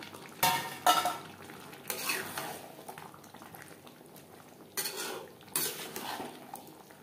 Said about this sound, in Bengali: 4-5 মিনিট মশলা কষিয়ে নেওয়ার পর দিয়ে দেব আলু এঁচোড়।